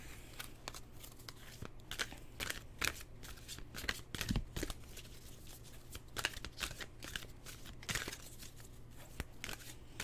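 Oracle cards from an archetype deck are shuffled by hand in a quiet room, a long run of soft, quick riffling and flicking strokes with a few sharper slaps, faint and close, with no talk.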